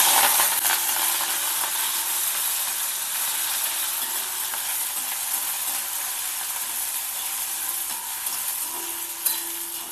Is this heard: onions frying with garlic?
yes